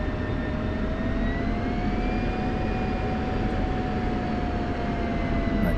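F-16 fighter jet taxiing on a taxiway, a loud steady jet engine whine with high sustained tones and a broad rushing roar, continuous and close throughout.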